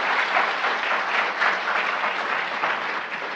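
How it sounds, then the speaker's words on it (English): Sustained audience applause for a doctor after a health talk on brain aneurysm treatment, a dense, steady wash of many hands clapping at close range, holding even throughout with no voices. "how about a round of applause for Dr."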